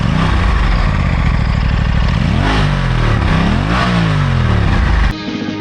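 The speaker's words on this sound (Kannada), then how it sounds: "ಸ್ಟಾರ್ಟ್ ಮಾಡಿ ತೋರಿಸ್ತೀನಿ ಈ ಬೈಕ್ನ ಎಕ್ಸಾಸ್ಟ್ ಸೌಂಡ್ ಯಾವ ಥರ ಇದೆ ಅಂತ ಹೇಳಿದ್ರೆ." An Italian 457 motorcycle with an underbelly exhaust, started and revved up close: a loud, throaty engine note that swells and dips through several blips of the throttle before dropping abruptly near the end.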